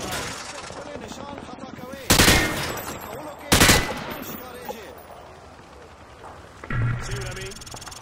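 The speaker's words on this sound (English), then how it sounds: "Grab that weapon off the table and fire at the targets behind you." Weapon fire at shooting-range targets in Call of Duty: Modern Warfare 2, with two loud bursts of automatic gunfire around two and three and a half seconds, then a shorter burst near the end, over a constant game soundscape.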